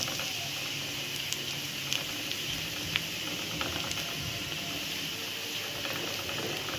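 Bessara, a fava bean purée, bubbles steadily with fried onions in the pot, a continuous soft hiss and patter with faint scattered pops, no voices.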